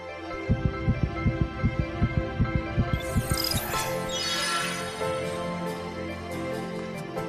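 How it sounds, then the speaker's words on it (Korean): A heartbeat sound effect thumps in a steady double-beat rhythm, loud and close, for about three seconds, then fades into a sweeping hum. "심장 박동이 빨라지게 됩니다"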